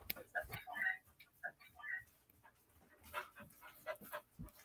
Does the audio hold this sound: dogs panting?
yes